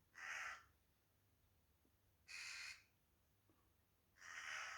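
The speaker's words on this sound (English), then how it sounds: "Some rooks making a real cacophony in the oak tree just nearby where I'm at." Rooks cawing from a nearby oak tree, three harsh, loud bursts spaced a couple of seconds apart, with faint background quiet between calls and no talk.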